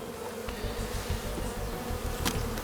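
Honey bees buzzing around hive frames in an apiary, a dense steady drone of many insects close by, with a few sharper clicks and bumps as frames are handled.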